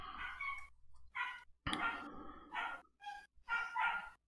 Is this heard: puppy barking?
yes